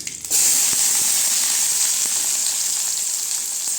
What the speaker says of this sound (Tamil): இப்போ கடுகு உளுந்தம் பருப்பு சேர்த்துக்கலாம். கறிவேப்பிலை சேர்த்துக்கலாங்க. வெங்காயம்